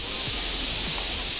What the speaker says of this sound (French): Des bruits de blanc,